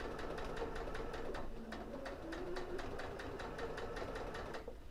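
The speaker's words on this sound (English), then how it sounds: "retest your seam allowance, just so that you know it is sewing at a 1/4 inch or Sheila's scant 1/4 inch." A sewing machine runs a quarter-inch seam in a quilting block, a quiet, steady rhythmic needle hum heard faintly at a distance with a low background drone.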